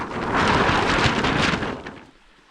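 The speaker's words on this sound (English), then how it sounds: "This is how Walt Disney used to make thunder." Thunder made the old Walt Disney way, a sound-effect device producing a loud, broad rumbling roar that swells quickly, holds for over a second, then fades away.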